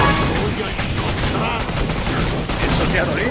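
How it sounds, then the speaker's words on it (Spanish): Gunfire in the video game Killing Floor 2 on a West London map: a dense volley of shots and booms mixed with excited players talking over the action. "¡Un disparo!"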